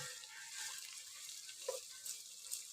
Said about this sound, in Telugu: ఇప్పుడు ఒకసారి మనము పన్నీరు కలిపి చూద్దాం